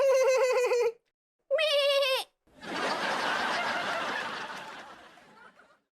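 A person imitates a goat, giving two nasal, wavering bleats with short pauses between them, then a longer breathy bleat that trails off like a laugh and fades out.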